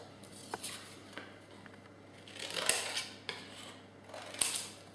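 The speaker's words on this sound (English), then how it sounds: "Now I'm going to cut that out." Scissors cutting out a paper shape, a handful of faint, quick snips and crisp paper rustles spaced irregularly, close to the microphone in a quiet room.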